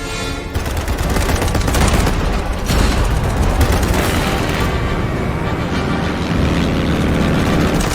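Frag grenade explosion and gunfire in a competitive multiplayer video game, a loud, dense barrage of blasts and shots running continuously with heavy booms near the start and around the middle.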